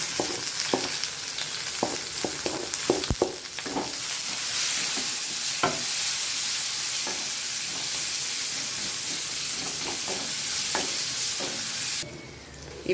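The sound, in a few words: onions frying in oil after mustard seeds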